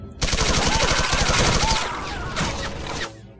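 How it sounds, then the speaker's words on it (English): A turret in the shooter game Blade of Agony fires a rapid burst of automatic gunfire, loud and close, followed by a brief tail of echoing impacts and a second shorter volley. "Damn, it seems to be a turret."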